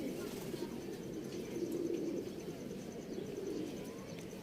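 Soft, low cooing from pigeons repeats in gentle bursts over a quiet background hum, fairly faint and close by.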